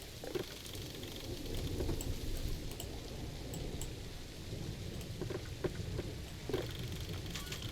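Steady rainfall with low rumbling thunder from a Planet Zoo game scene, a continuous wash of rain noise with occasional brighter drop and splash ticks, moderately loud and unbroken, no voices.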